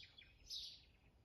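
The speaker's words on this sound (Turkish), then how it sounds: "Kuş sesleri var da ekstradan bir ses daha var." A faint, brief bird chirp rings out, high and thin, heard from a distance in a quiet setting.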